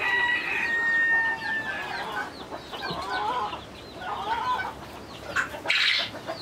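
Broody hen sitting on partridge eggs clucks and churrs nearby, with other chickens and birds calling in the background of a farm setting, the sounds rising and falling in uneven bursts.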